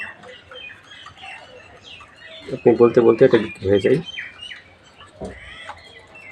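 Native deshi chickens kept in cages cluck and squawk in a short loud burst of calls near the middle, with fainter chirps around it, while someone talks throughout.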